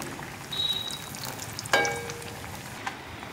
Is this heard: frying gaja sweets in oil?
yes